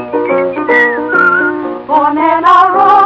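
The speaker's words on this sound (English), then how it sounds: "Maybe they'll whistle and you will hear." A person whistles a lively melody, clear and close, with steady pitched notes gliding between phrases.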